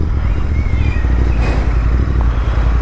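Interceptor motorcycle riding on a road, a loud, steady low engine rumble with wind rush and a brief swell of noise midway, with no talking over it.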